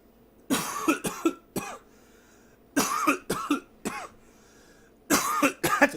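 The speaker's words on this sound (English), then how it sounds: "That's a hell of a cough I got." A man coughs in several harsh bursts, grouped into three clusters with pauses between, close and moderately loud with no speech.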